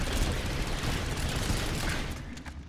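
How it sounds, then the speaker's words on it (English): Rapid, loud bursts from a GR22 shotgun rifle in Planetside 2, heavy overlapping blasts fired in a quick run that tails off near the end, with no talking. "you'll notice something though with the GR22, it's a shotgun rifle"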